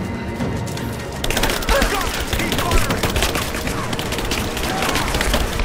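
Rapid, sustained gunfire in the Rise of the Tomb Raider video game, a dense loud fusillade of overlapping shots and bursts continuing without pause throughout.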